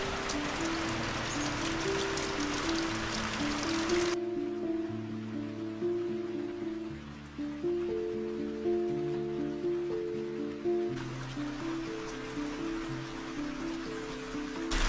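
Steady outdoor rain hisses evenly and continuously beneath sustained background music, with no talking.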